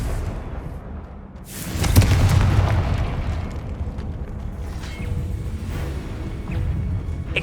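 A Confringo explosive spell blast in Hogwarts Legacy: a swelling whoosh breaks into a heavy, booming burst that rolls on as a low rumble with scattered crackles and a later smaller impact.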